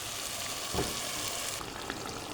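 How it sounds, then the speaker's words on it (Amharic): Steady, close sizzling of chicken frying in a hot pan, with a brief stirring rustle partway through and no voices. "ከዛ በመቀጠል ቅድም ያዘጋጀነውን ዶሮ ጨምረዋለን ማለት ነው።"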